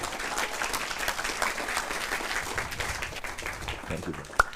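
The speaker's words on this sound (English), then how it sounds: "please give Michael another round of applause" An audience at a large event theatre applauds steadily, a dense wash of clapping holding at moderate level throughout, with a sharp single bang near the end.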